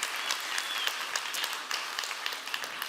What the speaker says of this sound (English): I want to give another round of applause for everyone who came up on stage